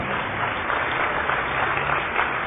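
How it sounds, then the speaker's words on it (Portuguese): A church congregation claps together in a steady, dense wash of applause that holds at an even level throughout, with no voices standing out. "Por cada vida que está chegando, vamos aplaudir isso."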